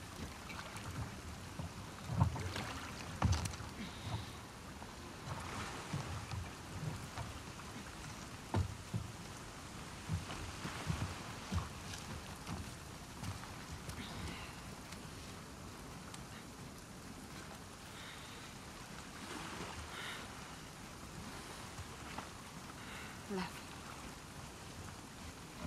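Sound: rain in the video game The Last of Us Part II

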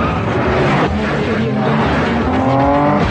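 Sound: street racing car engines in movie trailer

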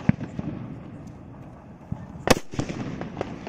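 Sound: sutli bomb firecracker exploding

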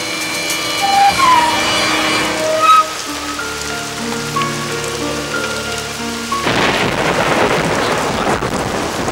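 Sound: storm with rain and thunder

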